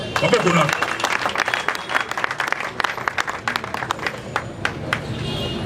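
An audience applauding, a brisk patter of many hands clapping that thins to scattered individual claps, with a voice speaking over it at the start.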